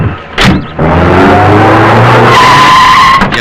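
A car pulls away with its tires skidding and squealing, a loud close screech over a rising engine note that holds for a few seconds.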